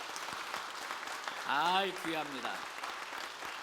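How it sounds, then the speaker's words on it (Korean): Church congregation clapping in encouragement for the young people at a New Year prayer meeting, soft sustained applause beneath a voice speaking near the middle. "우리는 대신 뜨거운 박수로 격려하겠습니다"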